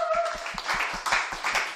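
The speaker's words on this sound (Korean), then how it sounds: "다시 한번 박수해 주겠습니다." Applause at a community forum after a saxophone performance: a short burst of quick, close hand claps in a steady rhythm, fairly faint.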